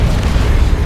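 An explosion in Dawn of War 2 rumbles as a loud, deep, continuous boom filling the whole short moment with heavy low-end roar.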